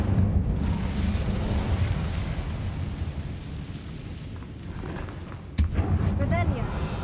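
A continuous roaring whoosh of fire from an Incendio spell, loud and sustained for several seconds, with a sharp burst near the end followed by renewed rushing flame and a brief tonal flourish.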